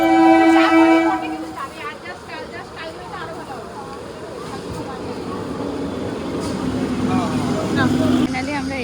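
A train at a railway station: a loud horn-like tone sounds at the start, followed by rumbling, clattering rail noise with a busy crowd of voices around it.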